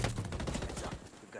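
Rapid video game gunfire, a burst of sharp repeated shots over about a second, with shouted voices mixed in.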